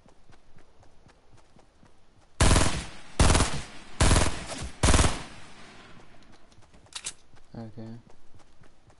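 Bursts of submachine gun fire in a World War II shooter game, several loud rapid volleys in quick succession, followed by quieter scattered game sounds and a brief voice near the end.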